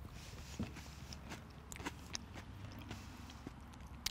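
Someone eats crunchy mac and cheese topped with croutons and pancetta bits, giving faint, scattered crunching bites and chewing clicks at close range with no talk.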